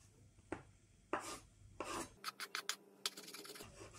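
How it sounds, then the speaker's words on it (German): A knife cuts avocado and shrimp into small pieces on a cutting board, giving a series of close, sharp scraping and rasping strokes, some quick and clustered, with no speech. "Dann lege ich alles auf ein Brett und dann werden wir das erstmal klein schneiden."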